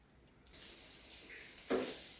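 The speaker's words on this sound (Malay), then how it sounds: "Kita goreng dia. Kita tukar sebelah. Kita terbalikkan. Kita goreng sampai dia masak." Sweet potato dough for keria frying in hot oil hisses abruptly to life, a steady close sizzle that swells again briefly as pieces are turned.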